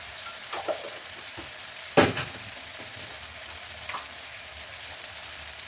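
Roasted cumin powder being added to a frying curry for butter curry with veg kofta, over a steady sizzle with one louder scrape near the middle and a few faint clinks.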